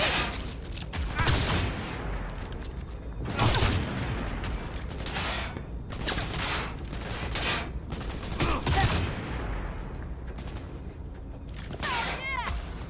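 Fireworks show in a video game: dense clusters of sharp bangs and crackling bursts come in waves, loud and busy throughout, with a whistling rise near the end.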